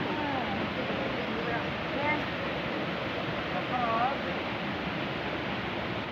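A waterfall at the Amsoi picnic spot gives a steady, broad rushing roar that fills the scene at moderate level, with faint whistles or calls drifting over the water noise.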